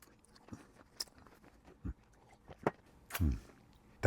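Soft bites into a baked apple cider doughnut, each followed by quiet chewing with a slight crunch, close and faint, arriving in a few scattered bursts with short pauses between them.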